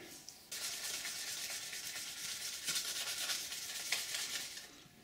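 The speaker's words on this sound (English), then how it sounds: "I'm going to take the handlebars and start sanding on them." Steady abrasive scratching of sandpaper rubbed against metal handlebars of a dryland mushing rig, continuous and close, starting after a brief quiet moment and running without pause.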